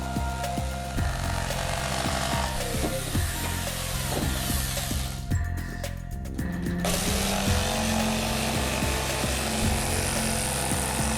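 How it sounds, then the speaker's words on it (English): A power saw, jigsaw or bandsaw, cuts soft wood for a doll's house, with a steady buzzing motor and rapid rhythmic cutting strokes, a brief pause near the middle, then cutting resumes close and loud. "I use a jigsaw or bandsaw"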